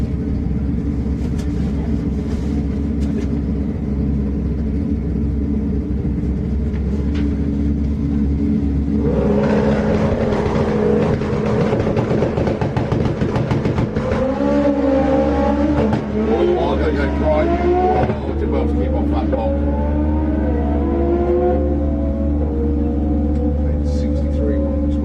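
A nitrous drag racing motorcycle at an FIA FIM drag racing event, loud steady engine roar that surges into a harder, rising acceleration midway as the bike launches down the strip, with a commentator talking over it.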